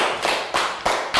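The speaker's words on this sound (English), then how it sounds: "Big round of applause for Lakgao." Young pupils in a Year 3 classroom clap in unison for a classmate, four loud, close, evenly spaced beats that sound like synchronized group claps or taps.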